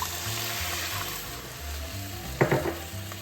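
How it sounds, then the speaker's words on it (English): Two cups of water go into a hot cooking pan with pepper, setting off a steady close sizzle and a few clattering stirring knocks near the end, with no talking. "Then I'm going to add in my 2 cups of water."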